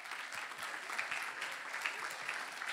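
Applause from the audience at the Miss Kärnten beauty pageant final, honouring the jury: a steady, fairly distant wash of many hands clapping that runs evenly throughout without letting up.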